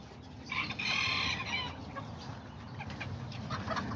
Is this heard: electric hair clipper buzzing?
no